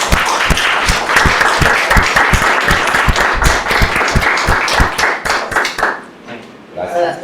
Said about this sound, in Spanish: Yo sí les doy un aplauso porque han hecho un trabajo extraordinario.